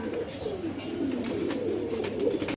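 Pigeons coo in low, rolling, repeated phrases, fairly close, with a faint hiss of background noise and no talking.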